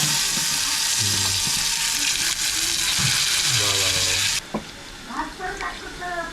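An egg and ginger-garlic paste sizzle and crackle in a hot pan, a loud broadband hiss filling most of the clip before it drops to quieter frying, with a voice speaking over it throughout.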